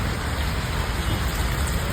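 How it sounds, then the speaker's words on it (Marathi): Steady rain pours down at a roadside junction beside a working tea stall, a dense constant hiss filling the scene with no voices. "पाऊस बघा किती पडतो"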